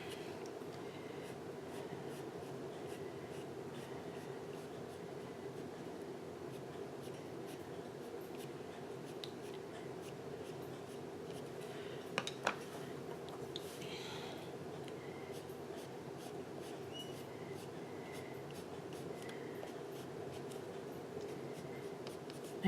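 Coloured pencil shades on paper in a faint, steady scratching that runs without pause over a low background hum, with a couple of small taps partway through.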